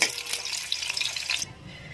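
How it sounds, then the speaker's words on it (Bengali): Papaya pieces frying lightly in hot oil, a steady close crackling sizzle for most of the stretch that drops away abruptly near the end, leaving a quieter hiss. "পেঁপেগুলো হালকা করে ভেজে তুলে নেব"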